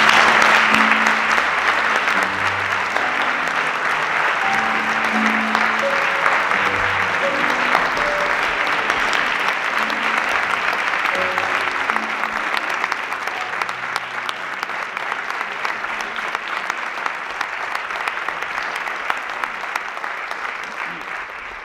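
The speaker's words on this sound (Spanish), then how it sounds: "a todos ellos ahora sí un fuerte aplauso" Audience at an awards ceremony breaking into loud, sustained applause, a dense wash of many hands clapping that carries on for about twenty seconds, gradually thinning, with some voices and faint music beneath.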